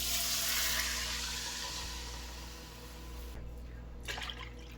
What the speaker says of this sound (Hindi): अब मैं इसमें डाल दूँगी दूध